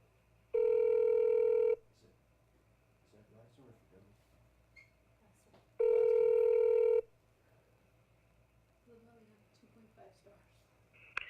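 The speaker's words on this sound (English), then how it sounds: "Okay, so I'm calling Blackstone right now." A telephone call is placed to an investor relations office, and two long, loud ringback tones sound a few seconds apart on the line, with quiet room noise and soft murmuring between them.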